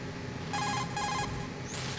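A Metal Gear Solid 2 codec call chimes, a short electronic ringing in two pulses followed by a rising beep, clear and alone.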